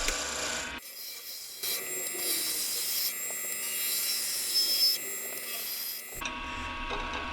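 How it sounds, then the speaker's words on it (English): Pen blank with glued checkerboard joints turned on a mini lathe at about 1700 RPM with a spindle roughing gouge, giving a steady close scraping, rasping cut that drops out briefly and then continues. "Spinning about 1700 RPM using the spindle roughing gouge."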